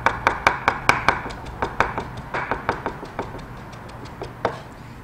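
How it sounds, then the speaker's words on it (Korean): A kitchen knife chops green onion on a cutting board for braised tofu, a fast run of sharp, evenly spaced taps that slows and thins toward the end, close and clear with no talk. "채 썰고 모아서 다집니다."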